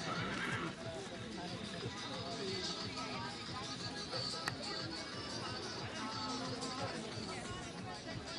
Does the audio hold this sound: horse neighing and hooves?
yes